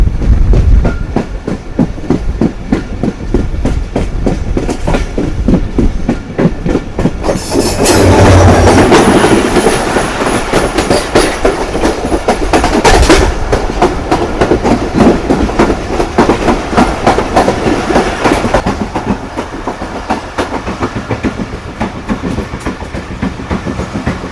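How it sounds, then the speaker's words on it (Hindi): The 17 Up Millat Express passenger train rolls out of a station on its run from Karachi toward Lala Musa. A loud, continuous clickety-clack of wheels on rail joints runs throughout, with no talking. "हमारी गाड़ी ने भी हॉर्न दिया और अब हम रन पठानी स्टेशन से चलना शुरू हो गए हैं"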